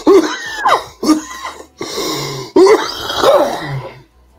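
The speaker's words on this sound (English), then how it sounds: "if he's coughing like that in his sleep" Several harsh coughing bursts in a row, loud and close, with short gasping pauses between them and no talking.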